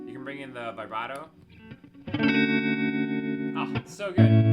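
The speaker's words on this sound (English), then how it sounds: "You can bring in the vibrato." Electric guitar through a Fender '65 Deluxe Reverb reissue amp with the vibrato switched in, sustained chords wavering in level, preceded and interrupted by someone talking.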